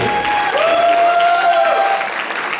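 An audience gives steady, lively applause for the finalists of a dance competition in Łomianki. The clapping is dense and close and continues throughout, with a faint held tone underneath.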